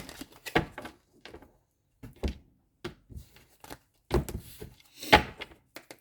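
Cards being shuffled in several quick riffling bursts, close and crisp, separated by short quiet pauses.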